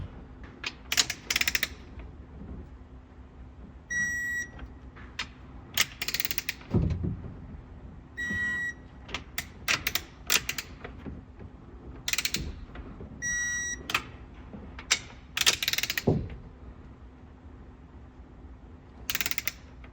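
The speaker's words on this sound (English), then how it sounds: "Now I need to torque down the nuts on the rocker arm pedestals, and those go to 25 foot-pounds." A torque wrench works the nuts on the rocker arm pedestals of an Elva engine with a reinstalled cylinder head, making sparse, crisp ratcheting clicks in short bursts and a few sharp tonal clicks against a quiet workshop background.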